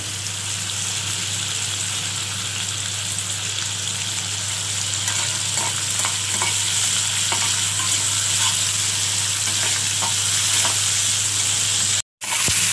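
Ash gourd peels fry in a pan on a gas stove, a steady close sizzle running throughout with faint stirring clicks and no talking.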